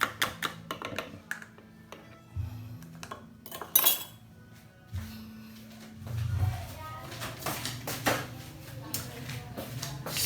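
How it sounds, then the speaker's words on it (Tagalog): Plastic container and funnel being handled while bottling Filipino spiced vinegar, sukang pinakurat, in a kitchen: irregular clinks, taps and knocks of hard items set down and shifted, with a voice talking intermittently. "kunin na natin po yung ating lalagyan at saka funnel"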